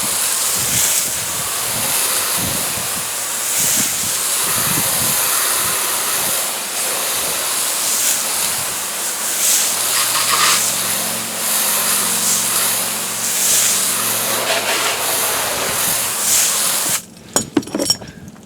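A steady, loud hiss of water spray blasting a surface, continuous for a long stretch before cutting off abruptly near the end.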